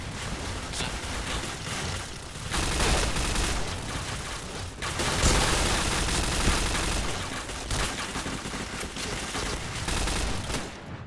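MP7 gunfire in the shooting game Point Blank comes as dense, rapid bursts of automatic fire, several long volleys with short gaps, loud and close, with no speech.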